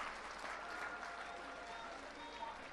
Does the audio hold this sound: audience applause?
yes